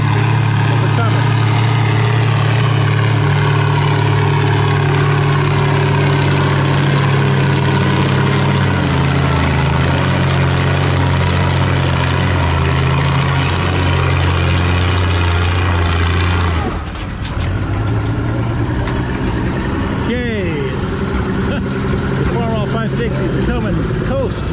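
A heavy Oliver 770 tractor engine roars steadily at a vintage tractor pull in Lynden, Washington, loud and sustained with a deep low drone, then a sudden shift as the load changes and the engine note wavers and drops.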